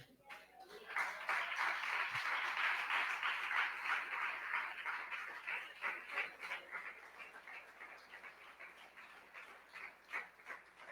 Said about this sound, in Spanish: Brídenle un aplauso al Señor.